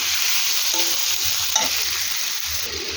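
Onions frying in a pan with a steady, close hiss and sizzle, stirred now and then with a few light scrapes and a brief clink near the middle, with no one speaking.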